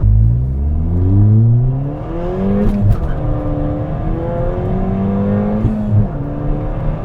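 A Ford Fiesta ST accelerates hard, its engine note climbing sharply through first gear. It dips at the shift to second, then climbs again. The engine is loud and close, with no voices.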